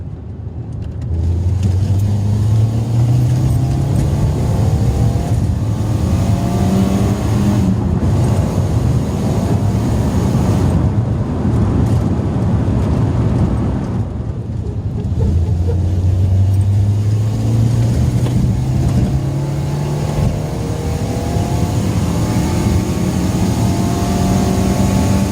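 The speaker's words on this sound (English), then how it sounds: "I'm going to do a video of acceleration pull, both with this box on in standard form and with it off" Citroën Saxo VTR engine pulling hard under acceleration, loud induction noise rising in pitch through the gears with brief dips at shifts, recorded from inside the car over steady road roar.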